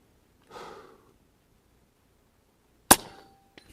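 A JTS Airacuda Max .30 caliber air rifle fires a single sharp, loud crack at steel targets on a range after a soft breath, followed by a faint, distant ping, in otherwise near-silent surroundings.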